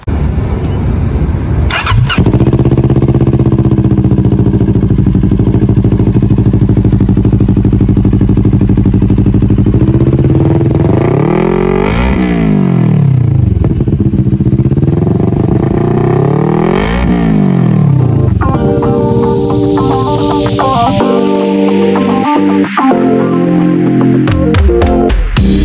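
A CFMoto NK400 motorcycle with an Akrapovic full exhaust system starts, then idles loudly with a deep throb, revs up in several rising and falling sweeps, and blips sharply near the end, close and alone.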